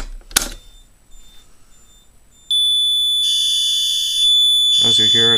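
A fire alarm on a four-zone alarm panel, set off by pulling the basement pull station during a test: a sharp click, then a loud, steady electronic tone that holds, with a second pulsing tone joining near the end.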